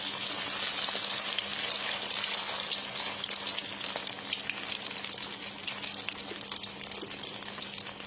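Food frying in hot oil until golden, with a steady close sizzle and crackle that holds evenly throughout, alone with no voices.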